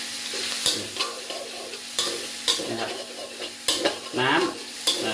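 Minced pork stir-fried in a pan, a close sizzle with regular stirring scrapes and light clinks of the spatula.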